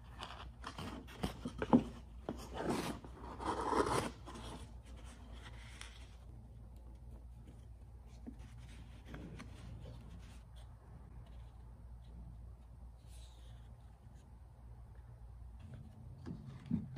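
Corners of a cardboard hardware box being creased: a few seconds of scratchy rubbing and pressing, then a long quiet stretch with only faint ticks and handling noise.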